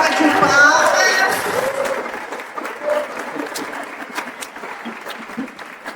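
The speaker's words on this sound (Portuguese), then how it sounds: "Uma salva de palmas." Audience at an anniversary celebration's opening conference breaking into applause, a dense patter of clapping that starts strong over a speaking voice and gradually thins out to scattered claps.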